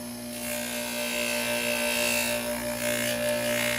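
Metal being scrubbed with a fine Pryme abrasive cleaning pad, a steady close rasping rub that carries on unbroken for several seconds over a constant motor hum in a workshop.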